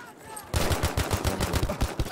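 Rapid automatic gunfire in the Battlefield V video game, a close, loud burst of steady shots starting half a second in and rattling on evenly to the end, with no talk over it.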